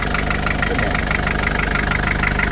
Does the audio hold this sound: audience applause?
no